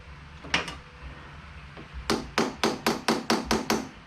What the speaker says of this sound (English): we can take a chisel and ensure that we're on that mark